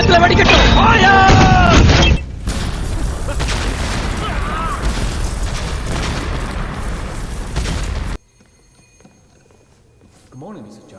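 Cannons are readied and fired at the governor's mansion in the Wuchang Uprising, with heavy, rumbling blasts and crashes that follow a spoken order and then cut to near silence.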